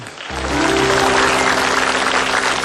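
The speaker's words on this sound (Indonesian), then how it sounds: "Tepuk tangan dulu untuk Cak Lontong." A studio audience breaks into applause for Cak Lontong on an Indonesian TV talk show, a dense, sustained clapping that swells in quickly and holds loud and steady.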